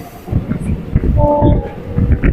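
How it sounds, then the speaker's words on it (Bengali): A train rumbles and rattles close by as it departs Bargona station on the Katwa to Barddhaman line, with low heavy clatter and a brief squeal of wheels. "আমাদের ট্রেনটি এখন বরগনা স্টেশন থেকে ছেড়ে দিল"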